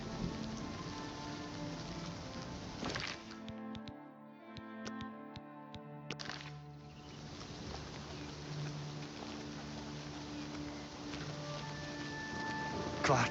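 Rain falls in the video game Oblivion Remastered as a soft, steady hiss, faint and constant, under in-game music tones and a few light ticks.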